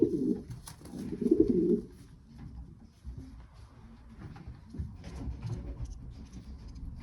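Pigeons cooing at a breeder's loft, a loud cluster of low, throaty coos near the start followed by softer, quieter cooing and rustling that continues to the end.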